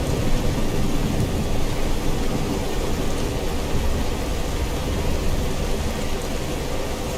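Steady, dense rain with low rumbling thunder fills a thunderstorm in the game Skyrim, a continuous broadband wash at even loudness with no voices.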